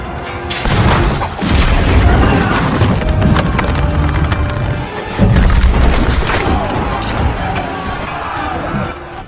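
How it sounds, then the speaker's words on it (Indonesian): Heavy booms and crashing impacts roll continuously, cannon fire between pirate ships in a film featuring the Flying Dutchman, dense and loud with splintering clatter of wood throughout. "mereka saling melayangkan meriam hingga terjadi kerusakan di kapal masing-masing"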